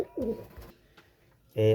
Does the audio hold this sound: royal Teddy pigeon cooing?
yes